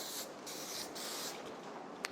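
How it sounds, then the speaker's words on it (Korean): Hairspray misted onto hair in several short hissing bursts, close and soft, separated by brief gaps, then a small tap at the end. "스프레이만 살짝 뿌려주셔도 머리가 뭉치는 거 없이 고정이 훨씬 잘 돼서"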